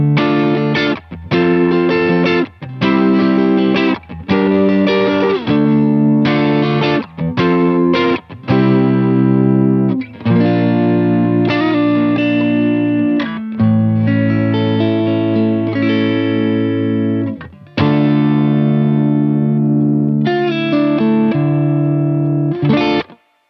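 A lightly overdriven electric guitar through a TC Electronic Combo Deluxe 65' Ampworx amp plays chords and short phrases with a slightly gritty, compressed edge-of-breakup tone, steady and loud throughout.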